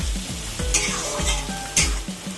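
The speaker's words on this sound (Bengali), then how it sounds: "রসুনটাও দু মিনিট মতো ভেজে নিতে হবে" Garlic and carrot pieces frying in hot oil, a loud continuous sizzle broken by repeated scraping stirs of a spatula in the pan, close and alone.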